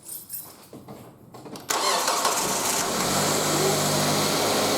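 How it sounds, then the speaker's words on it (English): A car engine cranks and catches with a sudden loud start, then settles into a steady close idle drone after a few quieter rustles and knocks. "So time to start the car."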